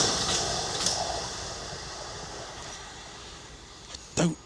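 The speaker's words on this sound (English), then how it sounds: "Well, there's a normal train." A regular passenger train passes near Bath, heard as a steady, fairly distant rumble and whoosh with a brief louder burst just before the end.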